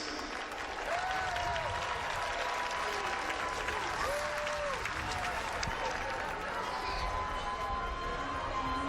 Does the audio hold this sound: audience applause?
yes